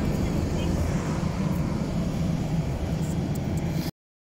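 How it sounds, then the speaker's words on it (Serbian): Jet airliner engines roar steadily as the plane begins to move for a flight toward Jerusalem, a loud, continuous broadband rumble heard from inside the cabin that cuts off abruptly near the end. "kreće avion"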